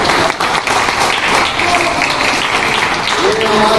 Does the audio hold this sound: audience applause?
yes